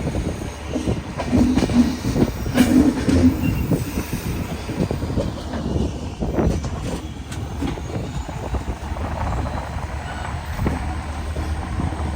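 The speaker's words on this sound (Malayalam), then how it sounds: "ന്യൂ കരീംഗഞ്ച് ജംഗ്ഷനിലേക്ക് ഇതാ ട്രെയിൻ എത്തിക്കൊണ്ടിരിക്കുകയാണ്" The Agartala–Badarpur Jan Shatabdi Express rolling along rails into New Karimganj Junction, Assam, with a steady rumble, clattering wheels and occasional metallic squeals, close and fairly loud throughout.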